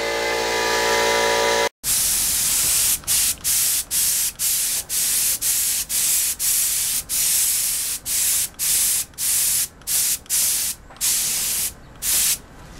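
Close aerosol spray of white paint laid on in a long continuous hiss, broken by a dozen short pauses as the nozzle is released between passes over a motorcycle fairing being refinished.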